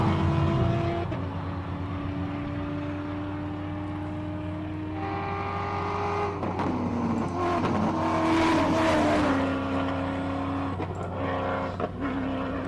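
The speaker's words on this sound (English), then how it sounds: "just listen to these monster rally raid vehicles" Monster rally raid vehicles race up the Simola Hillclimb course, engines droning and revving loudly with shifting pitch as they climb, the roar swelling and fading as machines pass nearby, with no talk over them.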